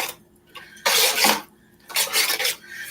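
Food is stirred in a pot holding cream of mushroom soup, chicken broth and sliced green pepper. Two bursts of close scraping and rubbing are separated by a quiet pause.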